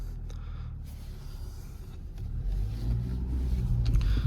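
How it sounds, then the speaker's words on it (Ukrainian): A 2014 Renault Megane with a 1.6 diesel engine pulls away in gear as the clutch engages, giving a steady low engine rumble that swells slightly and holds at close range with no talk over it. "Я відпускаю щеплення, даю трошки газу, щеплення бере зразу."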